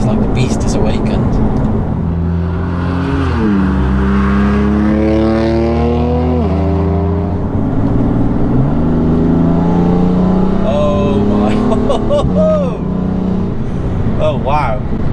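A 700bhp BMW M4 F82 engine accelerates hard after a downshift, its rising and dropping harmonic sweeps showing gear changes, loud and close throughout the clip.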